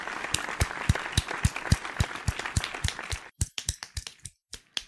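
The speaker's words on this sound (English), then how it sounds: "Round of applause for Slug, everybody." A small group claps enthusiastically, sharp irregular claps close by, thinning out into a few scattered claps at the end.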